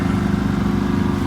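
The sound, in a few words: Honda generator running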